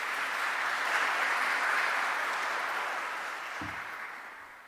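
Church congregation applauding at a Catholic Christmas service, a loud, sustained burst of clapping that swells and then slowly tapers off.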